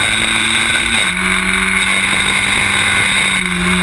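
Historic Formula Ford race cars howl around Snetterton circuit, a loud continuous high-revving engine drone with pitch shifts as gears change, the car close and dominating.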